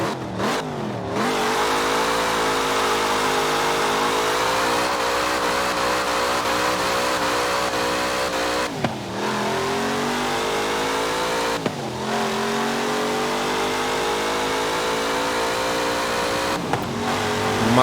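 A 1970 Chevrolet Chevelle SS muscle car engine roars loud and close from the cabin while driving through a wintry city, rising through long revving pulls broken by brief drops at gear changes.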